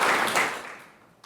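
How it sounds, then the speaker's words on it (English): A brief round of applause from the audience at a general meetup of an AI group in Birmingham, a burst of many hands clapping that swells briefly and then quickly fades away to near quiet. "Let's give a round of applause for Digital Motion crew."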